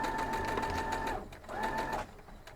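A sewing machine runs in two steady whirring bursts while stitching half square triangles for a quilt, close and even-toned, with a short pause between them and no talking.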